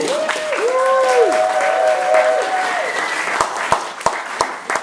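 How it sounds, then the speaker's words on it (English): A round of applause from the audience at a talent night, dense clapping under a sustained voice or tone at the start, thinning into scattered individual claps near the end. "I think we all should give her a round of applause"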